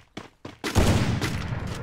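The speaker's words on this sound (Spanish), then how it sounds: "miren nada más esos tiros, 470 en la cabeza." Gunfire in the Free Fire battle royale video game: a couple of sharp single shots, then a dense rapid burst of sustained firing, loud and close.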